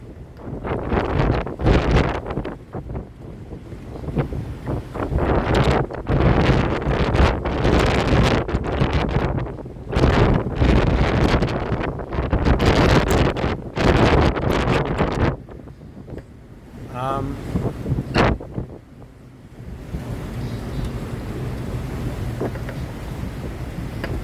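A massive wind storm roars across a boat anchorage, buffeting the microphone in loud, gusting waves that rise and fall, with rushing, rumbling turbulence nearly continuous throughout.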